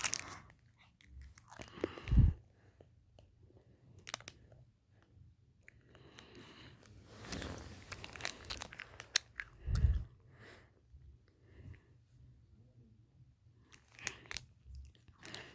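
Chewy lemon-flavoured jelly candy combined with hard candy being bitten and chewed, with a few distinct crunchy bites and soft, faint mastication between them, close up and without talk.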